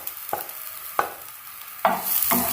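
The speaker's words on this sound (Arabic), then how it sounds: "هنديهم بس تشويحه كده تغير لونها بس" Crushed garlic and a small onion being sautéed in a pan, with a few distinct scraping stirs of a utensil over a soft sizzle, close and brief.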